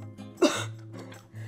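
A single sharp cough bursts out after eating a spicy red chili during a charcuterie mukbang, brief and close, with quiet voiced sounds around it.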